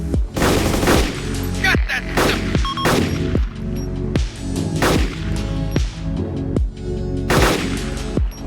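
Repeated gunfire bursts from the military video game Arma 2, loud, close and sharp, in roughly a dozen cracks spaced about half a second to a second apart, each trailing into a brief echo, with no voices over them.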